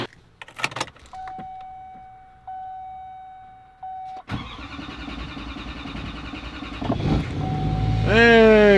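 A Duramax diesel truck engine, just fitted with new head gaskets, cranks over a steady tone from the cab and fires, settling into a loud rough idle that rises near the end, with a few brief clicks at the start.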